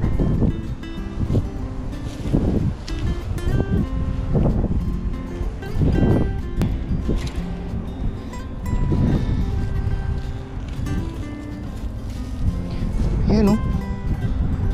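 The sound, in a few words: strong wind blowing outdoors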